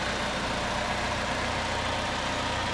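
A 2009 Pontiac G5 GT's 2.2 liter engine idling, a steady, even broadband rumble heard close and alone throughout, with no speech.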